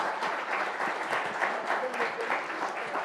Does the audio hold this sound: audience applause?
yes